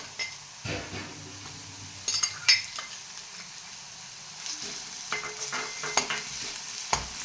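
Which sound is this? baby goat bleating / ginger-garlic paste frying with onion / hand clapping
ginger-garlic paste frying with onion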